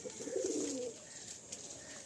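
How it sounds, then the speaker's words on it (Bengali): Pigeons cooing nearby, a low soft rolling coo in the first second, then quieter background with faint chirps and hiss. "এই হচ্ছে পায়রা, এই যাচ্ছে,"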